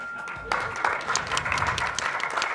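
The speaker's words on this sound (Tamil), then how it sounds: "கைத்தட்டுங்க, சும்மா என்ன உட்காந்துருக்கீங்க, உட்கா தைட்டுங்க." Audience applause at a Tamil public speech bursts in suddenly and keeps going as a dense, steady clatter of many hands, fairly loud, with faint talk underneath.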